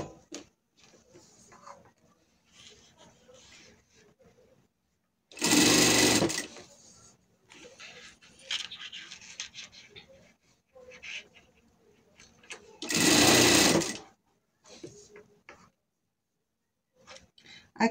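A sewing machine stitches a surgical garment piece in two loud, sustained whirring bursts separated by quieter handling noises, while someone talks in between.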